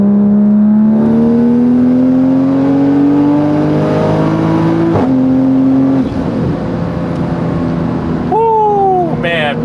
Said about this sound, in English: This is a 5th gear pull.